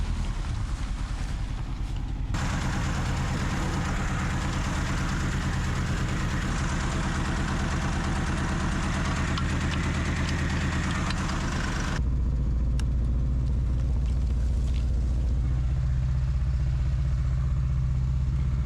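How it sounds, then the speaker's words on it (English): An abandoned Buzz Lightyear Toy Story car drives through the woods, its engine droning steadily as it pulls a small truck free. The drone thickens after a couple of seconds and drops into a deeper, heavier rumble later on. "My car is strong enough to pull this bright little truck right out."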